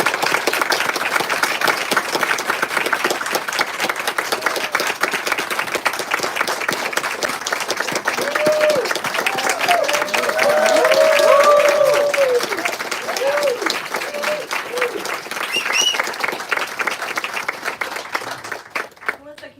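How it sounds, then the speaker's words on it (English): Sustained applause from a large crowd fills a White House room, dense and steady for most of the stretch, with a few voices calling out beneath it before it fades. "You have the largest round of applause I've ever heard in this room."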